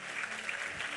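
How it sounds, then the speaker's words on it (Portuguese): A church congregation applauding during a worship service, a dense, steady wash of clapping that holds evenly loud for the whole short stretch, with a low sustained tone underneath. "Aplauda Ele."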